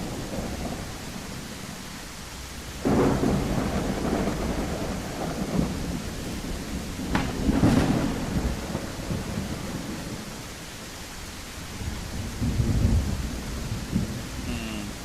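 Heavy rainstorm with steady pouring rain and several rumbles of thunder, one loud roll near the middle and another toward the end, with no voices.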